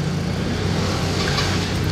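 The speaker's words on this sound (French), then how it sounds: "Wow, Ferrari Enzo." A Ferrari Enzo passing at a car gathering, heard as a loud, steady engine roar close by that fills the whole short stretch without a clear rise or fall.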